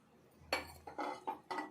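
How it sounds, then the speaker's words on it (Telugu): A pan set down on a stovetop with metallic clanks, followed by a few short clinks of a spoon while oil is added, close and fairly quiet with no talk. "ఇప్పుడు స్టవ్ పైన ప్యాన్ పెట్టుకొని 2 స్పూన్ల నూనె వేసుకోవాలి"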